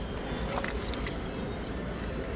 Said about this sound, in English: I get my keys out of the way here for you.